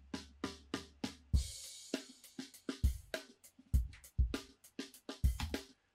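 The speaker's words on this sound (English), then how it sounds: "So pretty standard drum part." A standard drum part plays back from a Pro Tools session, with crisp hi-hat ticks, punchy kicks and snare hits in a steady groove, loud and close with no talking.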